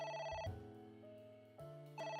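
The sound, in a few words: telephone ringing in the video game AI: The Somnium Files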